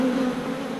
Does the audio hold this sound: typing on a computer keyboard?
no